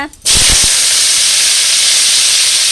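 Spices splutter loudly in hot oil for a pumpkin fry dish. A sudden burst of sizzling and crackling rises right after a brief voice, then holds as a steady close hiss.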